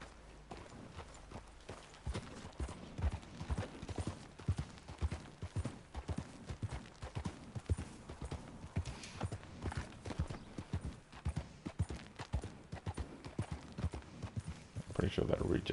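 A horse walks with steady, rhythmic clip-clop hoofbeats in the Red Dead Redemption video game, heard close by under talking voices.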